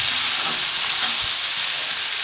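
Sliced potato and eggplant fry together in hot oil in a kadai, giving a loud, continuous close sizzle with a faint low knock partway through.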